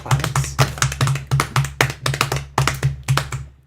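A few people clapping for Darth Vader in a small room, irregular close handclaps in short bursts over a low steady hum, with no crowd behind them.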